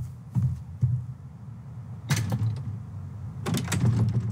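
A locked back door being tried in the Tell Me Why video game: a few separate clunky rattles and mechanical clicks of the handle, close and moderately loud, in short bursts with pauses between.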